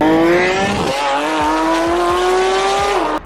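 A loud straight-piped Porsche engine screams close by, climbing in pitch through a quick gear change and holding a harsh, blaring rev to the end, with no talking.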